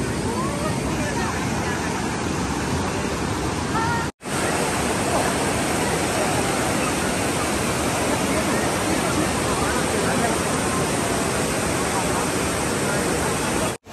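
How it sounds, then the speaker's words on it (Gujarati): Sahastradhara waterfall pours and splashes in a loud, constant roar of falling water heard up close, a dense wash of rushing water with a brief dropout partway through. "આ તમને દેખાય છે પાછળ સહસ્ત્રધારા વોટરફોલ."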